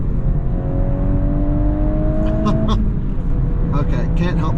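A Volkswagen Golf R engine accelerating hard on a road, a loud, steady drone with tones rising in pitch as the revs climb, then a shift and renewed pull, with talk over it.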